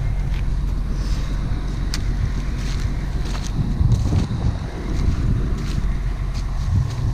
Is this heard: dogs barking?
no